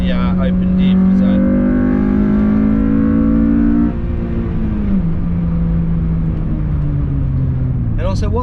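A Honda Civic FN2 Type R with VTEC, fitted with a Quaife limited-slip diff and Compbrake brakes, pulls loudly through a corner, its engine note holding steady then dropping in pitch, under continuous talk.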